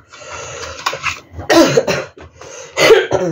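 A few harsh, explosive coughs in quick succession, close and loud, with short breathy pauses between them.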